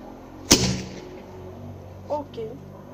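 A homemade firecracker goes off once with a sharp, loud nearby bang and a short rumbling tail, followed by quieter handling noises and a brief voice.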